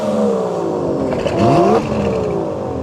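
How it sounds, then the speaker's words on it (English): An Aston Martin DB11 V12 engine revving nearby, a brief rising roar that climbs in pitch and drops back over a couple of seconds, close and loud. "Aston Martin DB11 V12 engine waiting for us."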